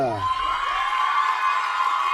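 A crowd at a dance gala cheers and whoops for a pair of bachata dancers. The loud, sustained shouting is mixed with some applause, and a rising cry stands out near the start.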